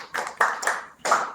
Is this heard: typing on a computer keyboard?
no